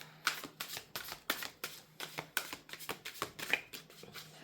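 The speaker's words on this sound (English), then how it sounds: "I'm gonna shuffle the cards" Tarot cards are shuffled by hand, producing quiet, papery riffling bursts that repeat in an even rhythm, roughly three per second, with no talking.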